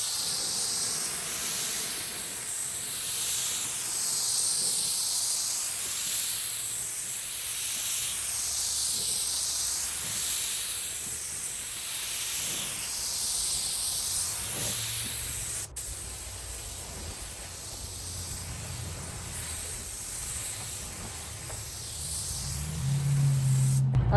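Primer is sprayed from a paint spray gun onto car bodywork during a home custom bodywork job, giving a steady, close hiss that runs nearly unbroken for the whole stretch, with a brief dip near the end.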